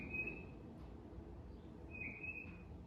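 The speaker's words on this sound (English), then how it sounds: "do you guys hear the bird?" Bird calling outdoors near a home kitchen, two thin high chirps about a second and a half apart, fairly faint above a low steady background rumble.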